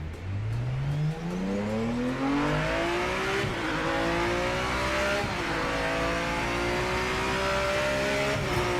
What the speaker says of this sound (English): I just want you to listen to the downshifts